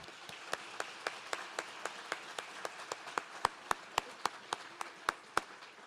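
A few people clapping at a youth contest awards event in steady, distinct claps, sparse applause that grows slightly louder and sharper toward the end, no talking.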